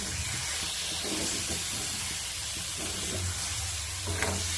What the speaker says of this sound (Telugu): ఎగ్ ఉడుకుతుంది కదా, దీన్ని ఒకసారి మిక్స్ చేసుకుందాము